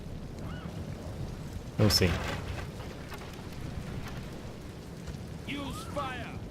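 Steady rain hiss across a Rome: Total War battle, with a sharp loud crack or impact near the two-second mark and brief talk near the start and end.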